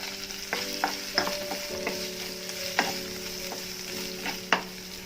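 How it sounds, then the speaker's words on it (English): Cooked prawns, mushrooms, grated carrot and beans stirred in a pan for coconut vermicelli pulao, a steady soft sizzle broken by several sharp spoon scrapes and clinks, close and moderately loud with no talking. "grated carrot and beans, and mix this well"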